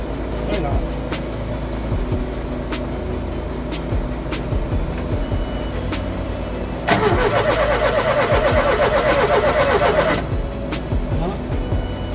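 A Ford Capri's Pinto engine, newly reconditioned, is cranked in a burst of several seconds of rapid, loud starter churning that never catches. It sits between quieter stretches with people talking nearby.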